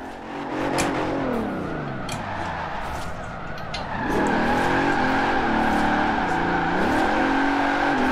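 A two-ton car with a 6.75-litre engine drifts in Forza Horizon 4, its engine droning and revving up and down while the tires squeal continuously through the slide, loud and close.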